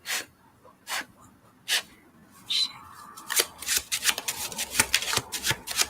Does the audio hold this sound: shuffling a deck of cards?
yes